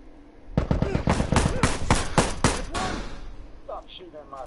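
Rapid bursts of gunfire in The Last of Us multiplayer, a loud close volley of shots for a couple of seconds, then fading as a voice speaks in the background.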